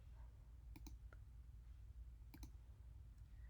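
Faint, crisp clicks of a computer mouse, a couple of quick double clicks spaced about a second and a half apart over low hum.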